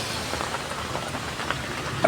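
Summer rain falling steadily outdoors, a dense even patter of drops on surfaces, close and continuous.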